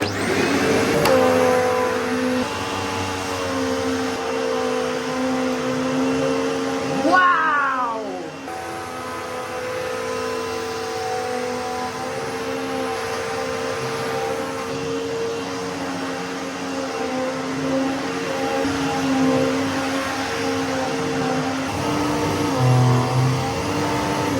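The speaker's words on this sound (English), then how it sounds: "Handle release activated, switch it on." A Vax Turboforce upright vacuum cleaner runs continuously with a loud, steady whining drone and strong airflow roar, holding a constant pitch across the whole stretch with a short dip partway through.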